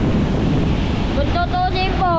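Storm-surge waves pounding a coastline with flooded houses along the shore, a loud continuous surf roar buffeted by strong wind noise, with faint tonal whistles or voices rising near the end.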